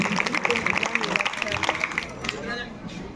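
Audience applause at a youth village panchayat competition event, a steady wash of many hands clapping mixed with crowd murmur and voices, moderately loud throughout.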